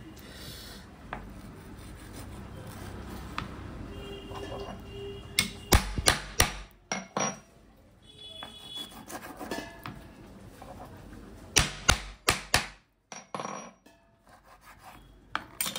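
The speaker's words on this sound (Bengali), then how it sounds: "এরকম ছোট ছোট এরকম চৌকো চৌকো পিস বের করে নিচ্ছি" Knife chopping fish into small square pieces on a board in a restaurant kitchen: faint rasping and rubbing, then clusters of sharp, close knocks and thuds in two bursts, with quiet pauses between.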